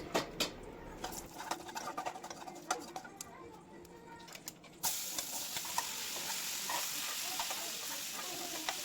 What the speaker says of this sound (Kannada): ಹುಣಸೆ ರಸನ ಹಾಕಿ ಬೇಯಕ್ಕೆ ಇಡಬೇಕು.